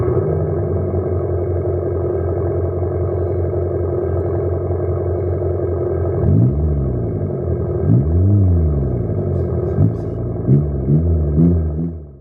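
A 2024 Abarth 500e electric car's sound generator imitates a combustion exhaust: a steady synthetic engine drone, then several rising and falling rev sweeps and quick blips, close and loud without talk.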